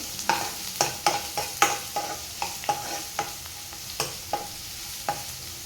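Onions sauté in oil for dried bombil fried rice, a soft sizzle under a lively series of sharp spatula taps and scrapes against the pan, roughly two per second and close by.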